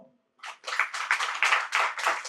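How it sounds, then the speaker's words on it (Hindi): An audience claps together for a spiritual talk, a brief quiet gap giving way to a dense burst of many hands that keeps pulsing and building at a steady, fairly close volume. "ताली बजाओ।"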